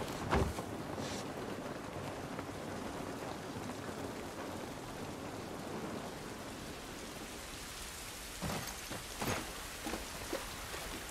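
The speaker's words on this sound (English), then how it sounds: "Rain ain't gonna do us any good." Steady rain falls outdoors in the video game The Last of Us, a constant hiss with a few louder splashes and thumps breaking through.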